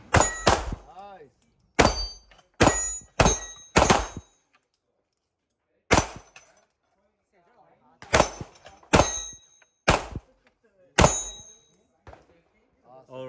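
Gunfire at an outdoor gun range, shots striking steel targets: sharp, loud reports in clustered bursts of two to four with pauses between, some ringing metallic tails, and people talking briefly between strings.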